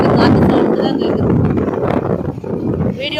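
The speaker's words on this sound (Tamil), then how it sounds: "காற்று சவுண்டு தான் கேட்குது." Loud, steady wind buffeting the microphone with a constant low roar, continuing throughout with no pauses.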